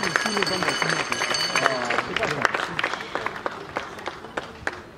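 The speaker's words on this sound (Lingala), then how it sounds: "Est-ce que vous pouvez applaudir très très fort" A crowd at a mourning gathering for a Congolese comedian breaks into sustained applause, a dense patter of clapping and cheering that rolls on under a voice addressing the audience.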